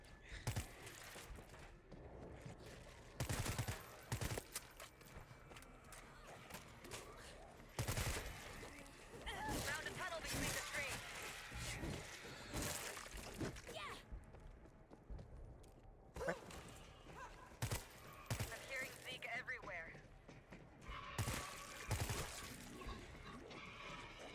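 Repeated bursts of gunfire in the zombie shooter World War Z, a stuttering mix of rapid automatic fire and scattered single shots, loud and close, with short quiet gaps between volleys.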